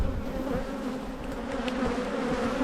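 Honey bees buzz in a dense, continuous drone over an open beehive, close and steady with no talking.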